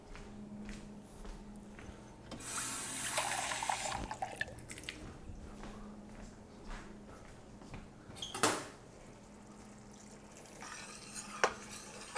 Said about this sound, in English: what I can do is put a little bit of water in